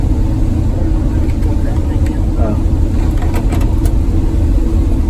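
A bus engine pulls hard on a wide road, a loud steady low drone with continuous road rumble close by, filling the whole stretch without easing off.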